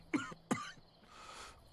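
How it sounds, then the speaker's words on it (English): A person coughs twice in close succession, two sharp, near bursts, followed by a soft breathy exhale and another cough starting at the end, with no talk around them. "Cough."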